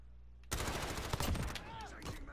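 Gunfire from a Call of Duty: Modern Warfare (2019) match starts abruptly after a quiet moment, a loud rapid burst of automatic shots with dense reports and a sharp zipping sound near the end.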